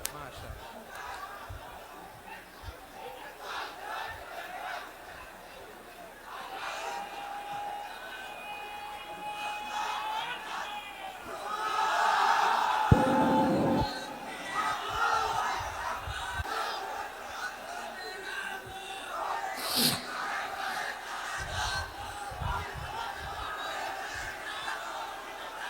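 A large crowd at an outdoor religious gathering in Lalmonirhat shouts a takbir chant, Allahu Akbar, answering a preacher's call in loud, rolling collective bursts, with chatter and scattered voices between the shouts.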